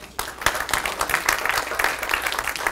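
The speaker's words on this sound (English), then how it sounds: "Big round of applause for Neil, please" An audience at a talk on cannabis gives a speaker a big round of applause, brisk steady clapping that starts abruptly and continues evenly to the end.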